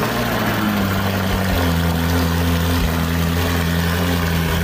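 A Ferrari supercar, repaired after an accident, idles steadily once its loose exhaust pipe has been fixed with a metal ring. The engine gives a deep, continuous hum close by, with no talking.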